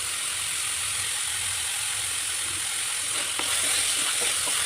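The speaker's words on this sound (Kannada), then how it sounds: "ಈರುಳ್ಳಿ ಕಂದು ಬಣ್ಣ ಬರೋ ತನಕ ನೀಟಾಗಿ ಬೇಯಿಸ್ಕೊಳ್ಳಿ" Onions frying in a pan while cooking a ridge gourd stir-fry, a steady hiss of sizzling oil throughout with a few light scraping clicks near the end.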